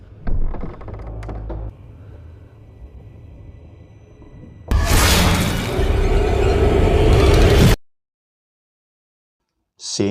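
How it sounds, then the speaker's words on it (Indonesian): A loud, broadband burst from a film explosion erupts mid-scene over a low rumbling score, roars for about three seconds, then cuts abruptly to silence. "Mark yang selamat dari ledakan"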